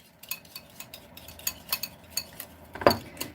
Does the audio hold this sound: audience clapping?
no